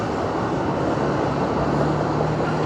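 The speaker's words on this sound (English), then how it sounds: "And the ubiquitous trams," A tram passes along Gisborne Street in Melbourne, heading toward Collins Street: a steady, loud, close rumble with a low hum that holds for the whole stretch and never breaks.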